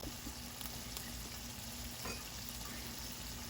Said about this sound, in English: I'm going to throw some onions in and saute some onions at the same time